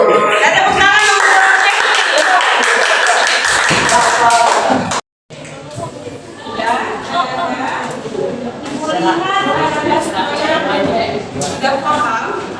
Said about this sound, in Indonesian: Dan tepuk tangan untuk